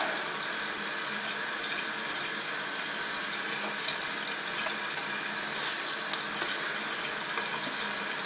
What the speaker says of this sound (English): fill this up with water, kind of give it a shake and empty it out a few times